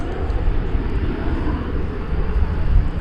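Jet airliners, including a Boeing 787 Dreamliner and a 777, rumble on the ground at DFW Airport at night, a loud, steady low engine roar with a broad hiss.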